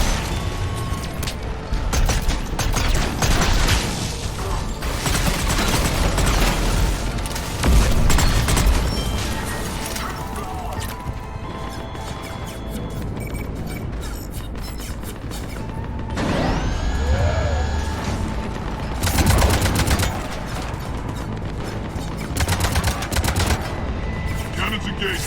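Ship cannons firing in the Mass Effect video game, with repeated heavy mechanical bursts and booming shots over a dense game soundtrack, loud and rhythmic in clusters, with occasional dialogue-like voices mixed in.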